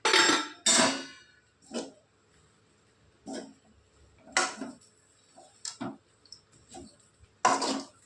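Puffed rice (borugulu) being mixed with a little oil in a vessel: irregular clattering, scraping bursts of grains against the pot, close and moderately loud, separated by quiet gaps, with no talk.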